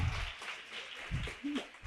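A church congregation applauding during worship, a broad wash of many hands clapping that blends with low background voices, fairly faint and continuous through the short stretch.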